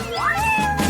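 A cat gives a single clear, rising-and-falling meow up close, loud and drawn out over about a second.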